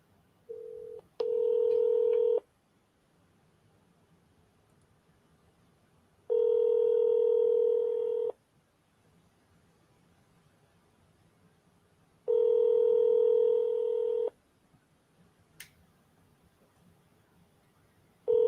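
Phone call being placed, a short burst of dial tones, then three long, evenly spaced ringback tones separated by quiet gaps, clear and fairly loud with no one talking.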